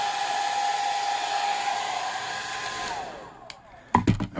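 Hair dryer heating a leather knife sheath before Sno-Seal waterproofing, a steady close whooshing blow with a fan whine that fades as it switches off, followed by a few handling knocks.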